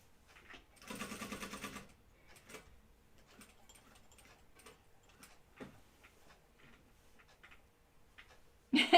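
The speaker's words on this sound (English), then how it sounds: "I'm hand cranking to get to the corner with my hand wheel." Home sewing machine worked slowly by its hand wheel, a short burst of rapid mechanical whirring followed by scattered soft clicks and ticks of the mechanism, quiet and close.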